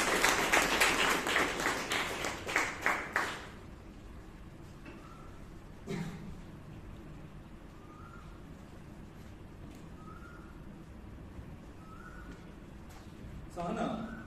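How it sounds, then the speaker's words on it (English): A short burst of audience applause at a Toastmasters club meeting in Bangalore, fairly close and fading out after about three seconds, followed by a long quiet stretch with faint room noise and a few small knocks. "Give a big round of applause."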